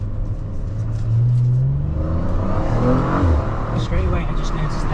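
An Audi RS5 Carbon Edition with a subdued V6 that replaced the older V8, heard from inside as a low, rising engine drone that swells and eases back as it accelerates, with someone talking over it.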